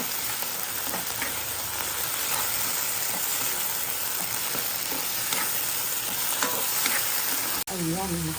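Alamang shrimp paste fries in a pan with a steady, loud sizzle and crackle, small stirring scrapes scattered throughout, ending with a brief voice.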